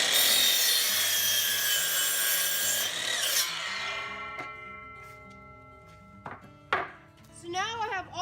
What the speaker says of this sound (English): I'm going to have to cut 2 inches off each side